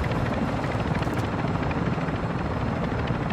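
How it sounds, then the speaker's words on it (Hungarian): A helicopter in the Warzone 2.0 DMZ game roars steadily and loud nearby, its rotor chop a constant dense rumble throughout with no talking. "De hát elhozták a helikoptert a reptérről, tudod, megtöltötték."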